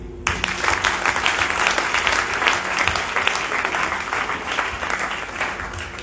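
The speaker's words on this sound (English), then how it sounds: "Somebody clap for Jesus." A church congregation claps at a Sunday service, a loud, dense and continuous wave of applause from many hands filling the room for several seconds with no speech over it.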